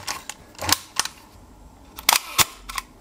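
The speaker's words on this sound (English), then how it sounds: "Winding up a Kiev." Winding the film advance of a Kiev 88 medium format camera right by the microphone: a run of ratcheting clicks and sharper mechanical clacks in irregular bursts, loud and close with no talking.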